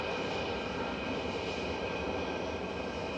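A Boeing 737-800 jet departing Manchester Airport, a steady loud engine roar, broad and unbroken throughout, with no voices.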